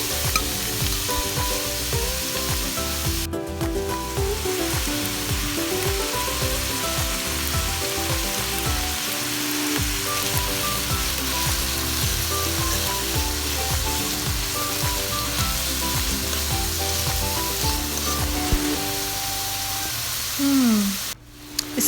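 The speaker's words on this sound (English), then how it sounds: "And saute chopped onions and garlic." Chopped onions and garlic sauté in about two tablespoons of olive oil, giving a long, even, rain-like sizzle with faint melodic background music and a brief louder knock near the end.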